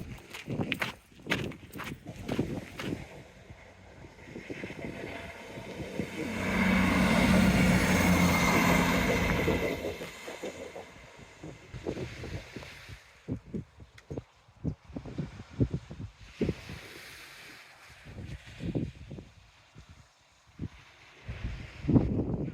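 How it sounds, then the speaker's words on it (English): A train passes along the Teignmouth seawall, a swelling rumble that builds and fades over several seconds among crunching footsteps and outdoor rustle. "that was a happy train. I heard that from here"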